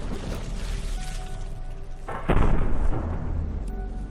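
An enemy shell bounces off a ship's hull during a naval battle in From the Depths, a sudden heavy metallic boom rising over steady rumbling combat noise and fading after about half a second.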